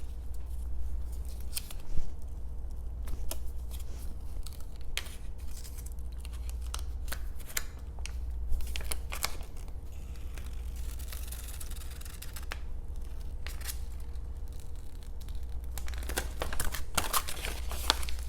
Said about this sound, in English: And now to remove the paper.